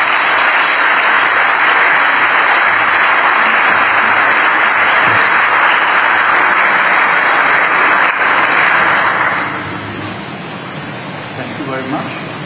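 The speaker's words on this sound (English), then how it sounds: "But first an applause for my speech." Audience applause after a speech by Rutte, a loud, dense wash of clapping that holds steady for about nine seconds and then drops off sharply into quieter room sound.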